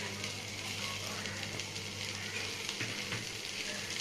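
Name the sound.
prawns and onions frying in a pan without oil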